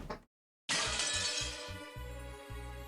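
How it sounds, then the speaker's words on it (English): Glass shatters loudly after a brief silence, a bright crash followed by tinkling shards over a deep rumbling low tone, a sound effect accompanying the appearance of a demon in a dark fantasy visual novel. "with the sound like glass breaking, a new demon could be seen there"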